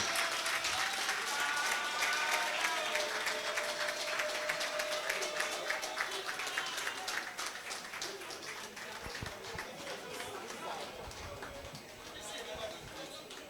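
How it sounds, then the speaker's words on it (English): Audience at a Nigerian Bar Association Ikeja branch event applauding as a senior advocate is welcomed to the podium, a broad sustained clapping that slowly fades, with speech mixed in underneath. "I want us to give a round of applause as I welcome Aare"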